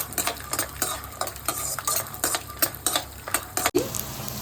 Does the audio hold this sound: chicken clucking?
no